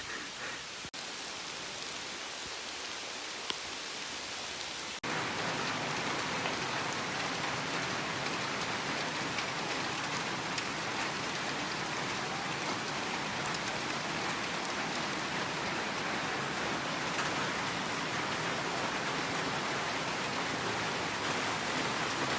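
Rain pouring down on a rubber plantation in Laos, a dense, even hiss that starts out lighter and then swells to a heavy, constant downpour for most of the stretch.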